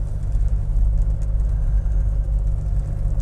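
A Triumph Herald 13/60 convertible runs on a country drive, its engine giving a steady, loud low rumble with slight fluttering pulses, close and continuous.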